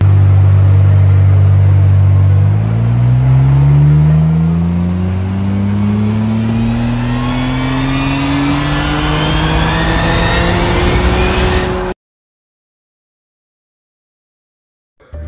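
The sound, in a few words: stock Nissan R34 GT-R engine revving on dyno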